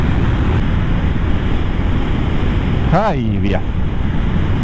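Wind blowing hard past a moped ride, a loud continuous rushing roar filling the whole clip, with a brief voice in the middle.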